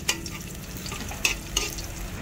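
Garlic being sautéed in a pan of oil: a steady low sizzle with a few brief stirring clatters, close and moderately quiet, with no talking.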